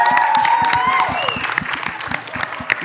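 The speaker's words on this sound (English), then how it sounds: "Can we give Kat a clap for making it happen?" Panel audience at a dancehall festival breaks into applause, a dense run of claps with cheering and a tonal whistle-like sound early on, continuing steadily.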